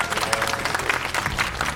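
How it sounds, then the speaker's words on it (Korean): Studio audience on a Korean TV talk show applauds a guest, a steady wash of clapping from many hands with a faint murmur of voices underneath. "여러분 박수로 맞아주십시오"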